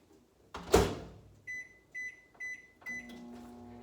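A kitchen microwave oven: a loud door thump, then a series of four regular electronic beeps, followed by the low steady hum of the oven starting to run.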